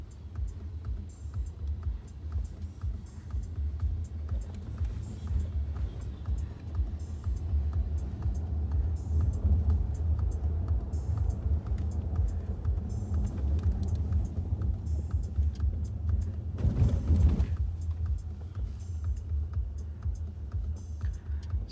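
Inside a Mercedes-Benz EQC electric car accelerating on a road in Pune, India, a low, steady rumble of tyres and cabin noise persists throughout, with a short louder whoosh of passing traffic near the end.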